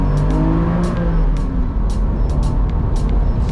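A Porsche 986 Boxster flat-six engine hums and revs continuously from close by while driving, with short higher-pitched clicks and ticks scattered over the drone.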